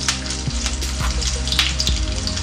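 Curry leaves and whole spices crackle in hot oil, with mustard seeds already popping, for a chicken curry with coconut milk; a steady close sizzle with sharp little pops scattered through it and no voice.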